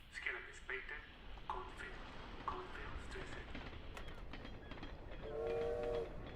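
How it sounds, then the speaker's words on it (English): A train runs along in a video game, with rhythmic clattering and a whistle-like tone near the end, heard under people talking. "This train is literally giving me ASMR right now."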